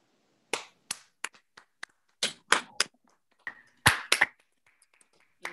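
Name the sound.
congregation applauding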